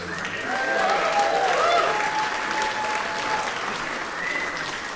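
A comedy club crowd at the Laugh Factory applauds steadily, a full, even wash of clapping with some cheering voices mixed in near the middle, fading slightly toward the end.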